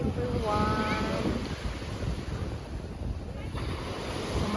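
Surf rolls in steadily at the seashore, a continuous wash of waves mixed with heavy wind buffeting the microphone. A voice is briefly heard early on.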